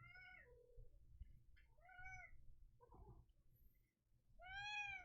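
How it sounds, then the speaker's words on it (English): A pet cat named Lady Catherine meows three times, short mewing calls spaced a couple of seconds apart, close and quiet in an otherwise still room. "That is my cat, Lady Catherine. She is making her voice heard."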